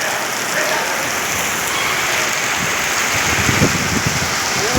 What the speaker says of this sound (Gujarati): વરસાદ આટલો ચાલુ હોય